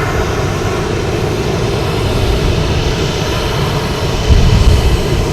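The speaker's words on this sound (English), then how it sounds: "Here's American Airlines coming in from Chicago" An American Airlines Airbus A319 arrives from Chicago at Boston Logan, its steady broadband engine roar loud and close throughout, swelling slightly near the end.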